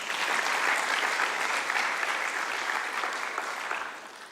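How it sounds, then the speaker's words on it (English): Sustained audience applause at a social cohesion symposium, honouring a team of lawyers who argued before the International Court of Justice; dense, steady clapping from a large crowd that runs the whole stretch and tapers slightly at the end. "let's give them a big round of applause for that"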